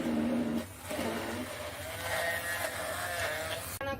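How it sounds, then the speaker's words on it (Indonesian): Electric blender grinding ingredients with no added water, a loud steady motor whir with shifting pitch that runs almost the whole time, dipping briefly near the end. "Aku blender ya, tanpa air."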